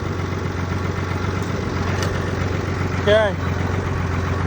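A 1978 Ford welding rig truck idles with a low steady rumble, a short mechanical clunk and whine as it shifts into gear, with a person speaking briefly.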